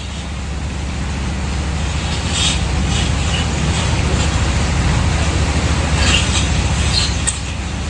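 Rain pours down outdoors as a steady, dense hiss that holds at a constant loud level, growing slightly heavier partway through, with no voices.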